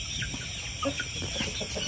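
Newly bought breeder chickens give scattered soft clucks at moderate distance over a steady background hum, several short calls overlapping briefly.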